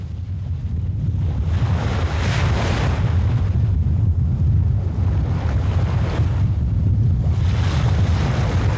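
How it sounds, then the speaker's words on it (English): Ocean waves surge and crash in a continuous heavy roar at the base of the Cape Hatteras lighthouse, with louder swells breaking every few seconds amid strong wind rumble and no voices. "you can see some dramatic pictures of the waves crashing against the base of that lighthouse"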